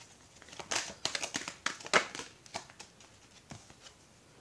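Tarot cards shuffled and dealt out in a row on a table, a quick run of crisp flicks and soft slaps close by, uneven in rhythm, with no voices.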